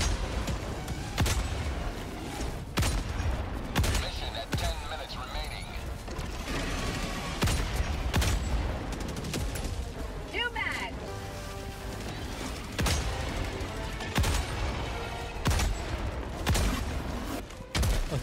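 Heavy anti-material rifle shots in Helldivers 2, several sharp loud booms spaced a few seconds apart amid dense game noise and talking.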